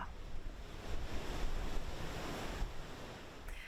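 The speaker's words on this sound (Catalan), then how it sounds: "Les ones superen els 3 metres tant a Mallorca com a Menorca." Strong easterly wind and high waves over three metres batter the coast at Cala Millor, Mallorca, a loud roaring surge of surf and gusty wind buffeting the microphone, swelling and easing across the span.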